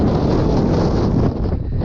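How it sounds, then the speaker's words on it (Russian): Strong wind gusts buffeting the microphone on top of a high chalk cliff in Crimea, a loud continuous roar that dips briefly near the end before rising again, with no voices. "сильные порывы ветра"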